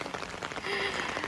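Steady rain patters on a surface outdoors during a walk with a golden retriever, a soft, even wash of drops with no voices.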